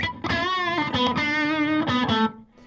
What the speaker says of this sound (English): if you put distortion on your amp